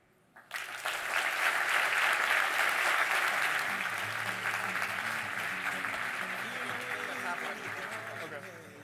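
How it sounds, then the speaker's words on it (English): An audience bursts into sustained applause at the end of a talk on what it takes to be world-class, a dense steady roar of clapping that slowly tapers. "Another round of applause for Garrett."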